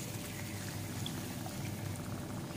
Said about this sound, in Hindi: 1 कप पानी यहाँ पर डाल देंगे।